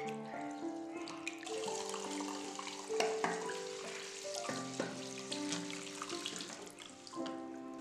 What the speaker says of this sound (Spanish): Hay que lavar hasta retirar la mayor cantidad de pigmento, hasta que el agua salga limpia.